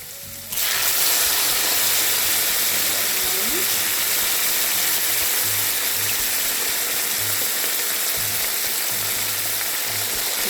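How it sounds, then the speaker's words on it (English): Loud, steady sizzling of beans frying in a pan, a dense crackling hiss that continues throughout with a few faint low bumps. "Don't be afraid of the sizzle, you guys, because again, we're frying the beans."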